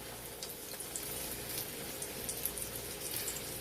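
A floured pork chop sizzles steadily in a hot frying pan for Southern fried pork chops, a constant hissing crackle with scattered small pops, close and moderately loud with no talking.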